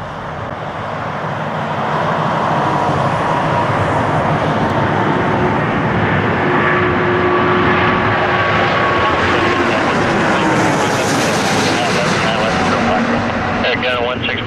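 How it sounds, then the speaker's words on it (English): Airbus A340 airliner touching down on Toronto Pearson runway 05, a loud sustained jet engine roar with broadband rushing noise filling the whole clip, steady and close, rising slightly toward the end. "Airbus 340 just touching down"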